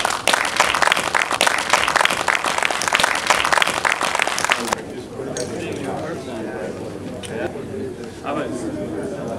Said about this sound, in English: I think we all owe David Kim a round of applause